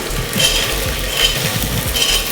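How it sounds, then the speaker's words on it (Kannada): Fenugreek leaves fry in oil in a pan, a loud close sizzle with rhythmic scraping and stirring strokes repeating through the short stretch, no voices. "ಮೆಂತ್ಯ ಸೊಪ್ಪು ಸ್ವಲ್ಪ ಮೆತ್ತಗಾಗೋ ತನಕ ಫ್ರೈ ಮಾಡಿಕೊಂಡ್ರೆ ಸಾಕು"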